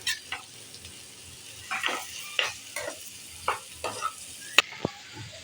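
Paneer fries in a pan with salt as it is stirred, soft scraping strokes recurring every half second or so over a faint sizzle, fairly quiet and close.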